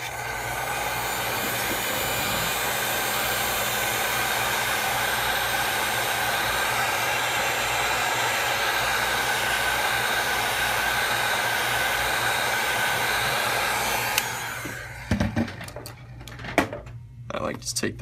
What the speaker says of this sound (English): you want to start off by heating up the bottom part a little bit with the heat gun